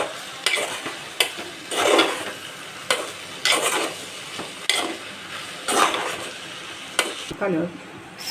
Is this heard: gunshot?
no